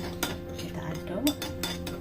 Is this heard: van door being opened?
no